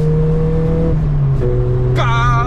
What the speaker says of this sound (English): listen to the punchy gear shift